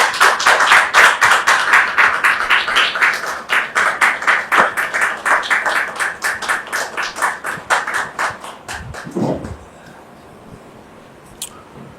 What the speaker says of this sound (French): Merci de les recevoir sous vos applaudissements.